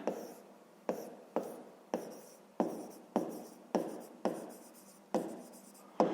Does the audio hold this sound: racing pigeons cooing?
no